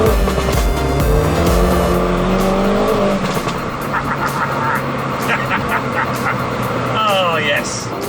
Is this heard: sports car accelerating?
yes